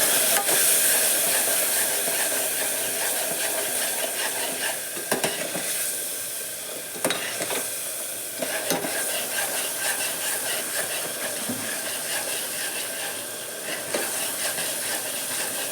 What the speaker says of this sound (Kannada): ಚೆನ್ನಾಗಿ ಕಲ್ಸೋಣ